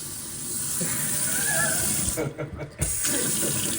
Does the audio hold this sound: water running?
yes